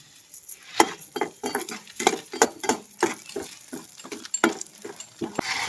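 A utensil scrapes and clinks rhythmically against a pot as moong dal is stirred and fried, over a soft background sizzle.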